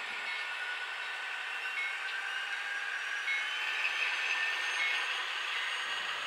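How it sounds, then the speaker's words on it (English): Steady, faint hiss and rumble of BNSF locomotives reversing on a model railroad layout, a continuous even drone with no distinct beats and no talk. "the lead engines from the BNSF intermodal train have cut off and are now backing their way towards the engine facility"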